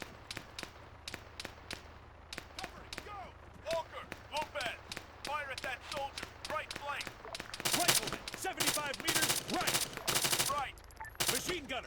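Rifle gunfire in the military shooter Arma 3, a long run of sharp cracking shots in an uneven rhythm that grows denser and louder toward the end, with voices talking between bursts.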